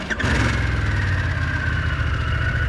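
A Harley-Davidson Pan America motorcycle idles nearby, its engine giving a steady low throbbing rumble with a faint whine above it, loud and unbroken after a short click at the start, with no speech.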